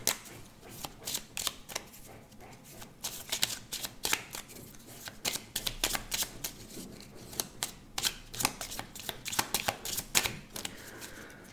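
A deck of cards being shuffled and cut during a card reading, with repeated quick riffles and crisp flicking bursts in an irregular rhythm, close and clear with no talking.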